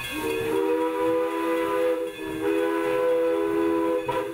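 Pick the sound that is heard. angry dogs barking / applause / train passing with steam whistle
train passing with steam whistle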